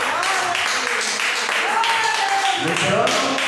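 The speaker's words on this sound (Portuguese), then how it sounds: "e as palmas para Jesus." A church congregation clapping during a worship service, steady rhythmic hand claps from many people under a voice speaking, with crowd murmur filling the room.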